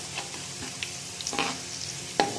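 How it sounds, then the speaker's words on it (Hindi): Onions and whole spices browning in a pan give a soft, steady frying hiss, with a few light scrapes and clicks from stirring close by. "अब हम अच्छी तरह से इसे मिक्स कर लेंगे और ब्राउन होने देंगे अपने प्याज अच्छी तरह से"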